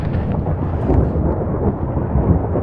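A loud, continuous roaring rumble of a tornado touching down close by in Minecraft, with no voices.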